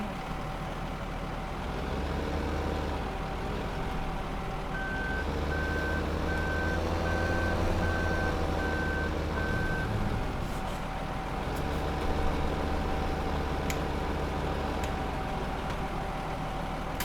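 A truck reversing with a trailer in Farming Simulator 2015, its engine rumbling steadily under a repeating electronic reversing beep.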